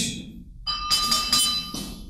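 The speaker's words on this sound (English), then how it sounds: "remember, they all ring like bells." A megalithic stone is struck and rings like a bell: a sharp hit followed by a clear, sustained metallic tone that fades over a couple of seconds, heard alone.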